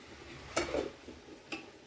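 Masala with hand-torn mint leaves and coriander being sautéed in oil in a pot for a large batch of chicken biryani: a faint background hiss with a couple of sharp spoon-on-pot scrapes and clinks, close by and without talk.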